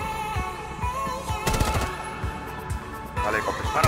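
Rapid gunfire from a first-person shooter video game, sharp repeated shots in bursts with loud impacts midway and near the end, heard under game sounds and players talking.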